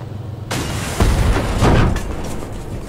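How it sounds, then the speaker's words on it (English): A bomb dropped on a Sherman tank in the video game Hell Let Loose explodes in a deep, loud boom that hits sharply and rolls out over about two seconds, preceded by a lighter burst. "Commander will drop a bomb on it."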